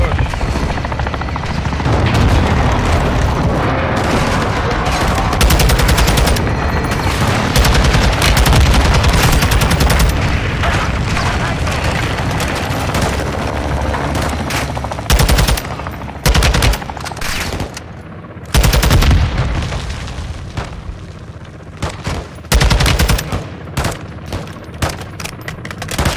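Battle in Call of Duty: Modern Warfare II, with bursts of machine-gun fire, booming explosions and a helicopter rotor drone, loud and dense, falling into short gaps near the end, with occasional voices under it.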